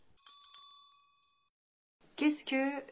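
A bright electronic bell chime rings once with a short ringing tail, followed after a pause by another brief tonal jingle.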